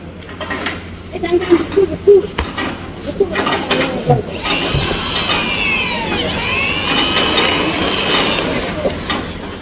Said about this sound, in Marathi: ते बघा ते आता होल पाडून घेत आहेत नंबर प्लेटला